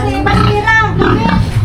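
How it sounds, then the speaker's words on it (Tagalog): Large pet pigs grunting and oinking close by in a short, loud burst of overlapping snorts, with a voice talking among them. "Ang ganda naman ng kanyang mga alagang baboy."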